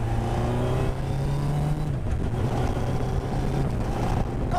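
A Westfield Hayabusa kit car with a flat shifter on a test drive after a wiring fault was fixed, its engine a steady buzzing drone with rising tones, loud and close, mixed with road and wind rush.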